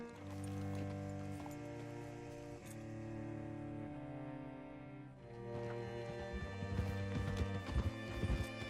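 Horse hooves clip-clopping in the Red Dead Redemption 2 video game, a steady walking beat of hoofbeats under sustained musical tones, growing denser and louder toward the end.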